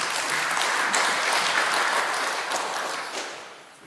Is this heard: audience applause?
yes